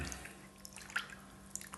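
Meat that has been cured for three days is rinsed in water, giving faint, sparse drips and small splashes with a couple of brighter sloshes in a quiet room.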